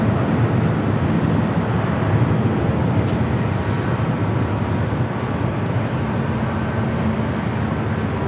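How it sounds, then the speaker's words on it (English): A United Boeing 787 Dreamliner rolls down runway 25 right at Los Angeles airport, its engines producing a loud, continuous broadband roar that holds steady throughout, with no one speaking. "another United Dreamliner rolling down the 25 right"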